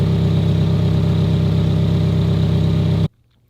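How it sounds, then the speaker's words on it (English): A car engine starts and settles into a steady, close idle inside a garage, a continuous low rumble that holds for about three seconds before cutting to silence. "And now we're gonna turn the car on and see if there's any bubbles"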